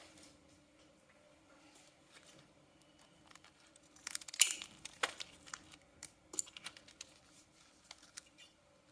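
Quiet, sparse snipping and plastic crinkling of stamping-sticker packaging being cut open for nail supplies, with a small cluster of crisp clicks midway and faint rustles after.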